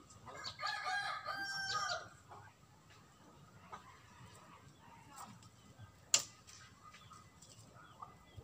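A rooster crows close by outdoors among red-leafed trees, one full, loud cock-a-doodle-doo at the start, followed by quieter background rustle, faint distant clucks and a sharp click partway through.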